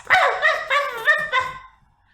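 A little dog gives a run of four quick, high-pitched yapping barks, close and loud, with a short whimpering tail at the end before silence.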